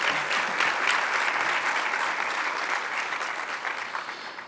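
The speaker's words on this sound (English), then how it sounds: "So please, a big round of applause for Expo, the Governor, and all the things that the folks do here." A crowd at an Indiana Black Expo event applauds, a loud, dense wash of clapping that holds steady and then slowly thins toward the end, with no speech over it.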